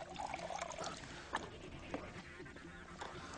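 A measured cupful of water is poured into a beaker of Marukyu AFP fishing bait paste, a soft close trickle and splash with a few gentle gurgles, quiet and unbroken by talk.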